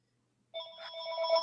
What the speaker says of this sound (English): turn that phone off